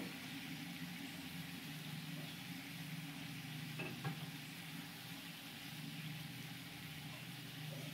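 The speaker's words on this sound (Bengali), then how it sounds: "আম আলু ভালো করে কষিয়ে নেব" Mango and potato pieces stir-fry in a pan for a Bengali mango and rohu fish curry, giving a faint, steady sizzle with light stirring under a low background hum.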